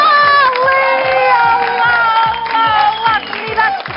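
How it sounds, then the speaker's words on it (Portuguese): Studio audience on a Portuguese afternoon TV show applauding and cheering loudly, with shouts and whoops over a thumping rhythmic music beat, sustained for several seconds. "Um grande aplauso para a Fatinha."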